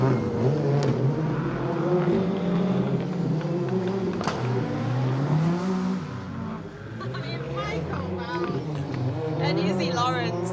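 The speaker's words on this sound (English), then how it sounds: "as we see Mark Young and Joe Young in the Peugeot 205 come to a halt" A Peugeot 205 rally car at a rally stage, its engine revving and burbling in sweeping pitch changes as it slows to a halt, with a commentator talking over it throughout.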